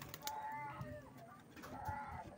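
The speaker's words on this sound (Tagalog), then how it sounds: "Yung mga kalapati natin." Pigeons in a coop give soft, low cooing calls that come and go against faint outdoor background noise, with a few brighter chirps mixed in.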